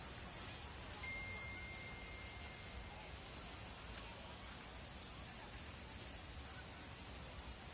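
Video game rain falling on a baseball field, steady hissing noise that stays even and moderately faint throughout, with no distinct drops or thunder.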